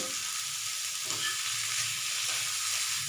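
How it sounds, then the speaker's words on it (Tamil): Bitter gourd frying on a medium flame, a loud, dense, continuous sizzle with the soft scrape of stirring running through it, and no voices. "இதை வந்து மீடியம் ஃப்ளேமில் வச்சு நல்லா கிண்டி கிண்டி விட்டுக்கலாங்க"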